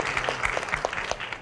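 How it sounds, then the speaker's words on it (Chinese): Students clapping together at a university lecture, a short, brisk round of applause lasting about a second and a half, moderately close. "来，大家鼓掌一下。"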